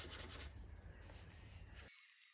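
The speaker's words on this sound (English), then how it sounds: "It took a surprising amount of courage to start attacking my beloved Vespa with abrasive paper." Abrasive paper rubs against a Vespa scooter's metal body in a few quick, rhythmic strokes, then a soft, faint, continuous scraping before cutting off.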